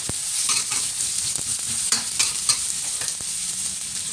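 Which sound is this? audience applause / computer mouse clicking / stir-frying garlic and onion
stir-frying garlic and onion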